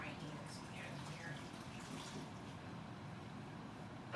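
Hands washed under a running kitchen tap while preparing chicken, with a steady low splash of water that runs throughout, faint and close.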